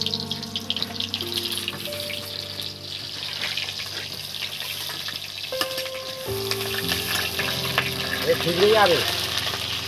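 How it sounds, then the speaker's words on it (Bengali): Pointed gourd pieces dropped into hot oil set off a loud, busy sizzle and crackle that swells toward the end, with stirring scrapes and a brief spoken remark over it. "তেলের মধ্যে আমি এই পটলগুলো দিয়ে দিচ্ছি বন্ধুরা"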